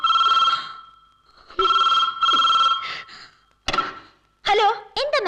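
A telephone taking a long-distance STD call rings loudly in repeated electronic bursts, followed by brief vocal sounds and thumps near the close.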